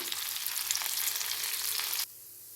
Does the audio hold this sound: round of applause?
no